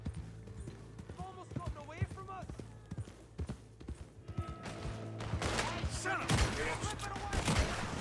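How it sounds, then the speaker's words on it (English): Volcanic pistol gunfire in the Western game Red Dead Redemption 2, a burst of sharp game shots and clattering action over a steady hum, with excited talk running alongside. "It's volcanic pistol time"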